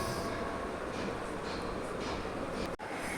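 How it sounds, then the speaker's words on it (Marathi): Rolling rumble of a small toy train on its track at Peshwe Park in Pune, a steady, continuous clatter and drone with a brief dip near the end. "तर आता आम्ही या ठिकाणी ट्रेनचा एक राऊंड घेणार आहोत"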